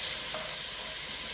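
Lardons fry in a pan for slow-cooked braised beef, giving a steady close, loud sizzle and hiss with no talk over it.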